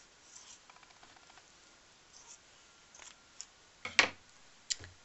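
Scissors snip fabric for paper piecing in a few sharp, close, isolated cuts after soft rustling and light ticking handling sounds.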